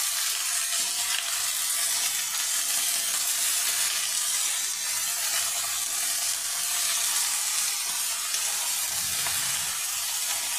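Leafy greens (mulo shak) dropped into hot oil tempered with garlic and cumin, giving a steady, loud, broadband sizzle and frying hiss that continues unbroken throughout with no talk.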